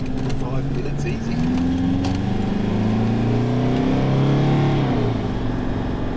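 Car engine pulling hard as the driver speeds up, a steady loud drone with rising and falling pitch sweeps, heard from inside the vehicle under ongoing conversation.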